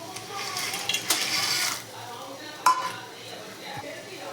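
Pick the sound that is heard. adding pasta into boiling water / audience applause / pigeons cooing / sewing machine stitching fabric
adding pasta into boiling water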